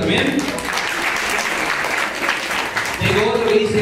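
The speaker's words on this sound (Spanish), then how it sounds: "Y Carla Gutiérrez, un fuerte aplauso para ellos también." An audience at a celebration applauds, a continuous rush of clapping filling the clip with voices talking over it toward the end.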